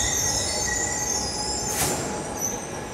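A subway train rolls past with loud, sustained high-pitched wheel squeal over a constant rumble of rails, heard close and steady throughout.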